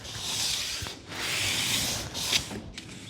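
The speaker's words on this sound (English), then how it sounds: "I'm just going to sit that on the track and just sand that down" Sanding a rough aluminium sliding window track by hand with 120 grit sandpaper, a raspy scratching in several back-and-forth strokes of moderate loudness, with brief pauses between strokes.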